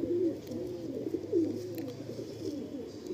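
Low, rolling pigeon coos repeat steadily across the clip inside a pigeon loft, close and fairly loud, with a soft murmur of other birds behind.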